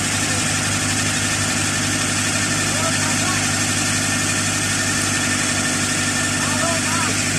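A CAT 307C excavator diesel engine runs at a steady idle, a loud continuous low rumble with a droning hum and faint rattles throughout, nearby and unbroken.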